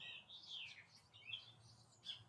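Wild birds, including doves, finches and robins nesting under a back-porch roof, give several faint, short chirps and tweets outdoors against quiet background noise.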